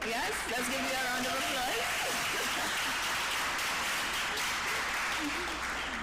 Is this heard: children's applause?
yes